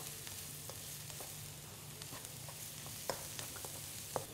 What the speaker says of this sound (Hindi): प्याज को लेना है हल्का सा भून, तब पूरा ब्राउन नहीं करना है, बस सॉफ्ट करना है